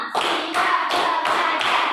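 Students in a classroom clap in unison, four or five sharp synchronized claps in an even, steady rhythm, loud and close with no talk over them.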